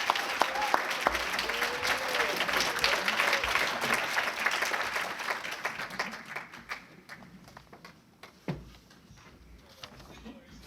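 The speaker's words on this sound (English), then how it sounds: "How about a warm round of applause for David Solomon?" Audience at a Cowboy Hall of Fame event at the Black Cowboy Museum applauds, with brisk, dense clapping and a few sharp individual claps that taper to scattered claps and then fade, with some voices faintly underneath.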